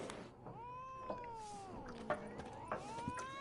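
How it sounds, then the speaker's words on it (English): A cat in the video game Witcher 3 meows repeatedly in drawn-out, wavering cries, close and clear over a soft ambient game background. "Wish you could pet the cat."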